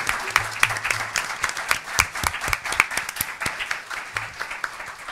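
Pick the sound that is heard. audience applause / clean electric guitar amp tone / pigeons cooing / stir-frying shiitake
audience applause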